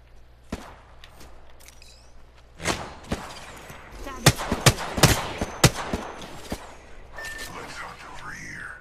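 Gunfire in the Apex Legends video game rings out as a cluster of sharp shots and bursts midway, over a steady low game hum.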